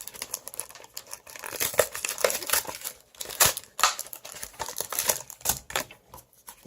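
Plastic wrapping on Yu-Gi-Oh booster packs crinkles and tears in quick irregular bursts, close and crisp, with no talking.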